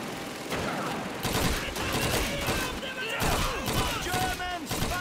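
Battlefield gunfire in the World War II shooter Call of Duty 2: sustained, loud machine-gun and rifle fusillades crackling without pause, with shouted voices mixed in.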